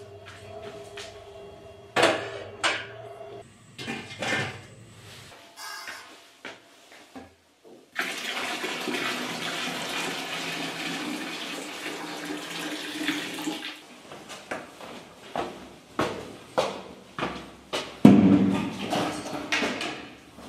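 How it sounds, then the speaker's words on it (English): Shower water runs in a home in the village of Helambu, Nepal, with a steady rushing spray in the middle stretch, surrounded by intermittent splashes, knocks and handling sounds, close and moderately quiet. "I just finished taking a shower"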